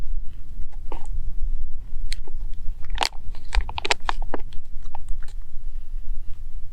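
Crunchy bites and chewing of granola with milk and blueberries, a freeze-dried Mountain House meal, sounding close to the mic as sharp crackly crunches in an irregular rhythm over a low rumbling background.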